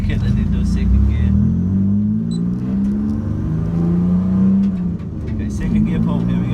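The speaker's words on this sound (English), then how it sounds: "Okay, second gear pull, here we go." A GTO race car on a dyno pulls hard in second gear, its engine roaring loud and steady under load as the pitch climbs and dips through the run.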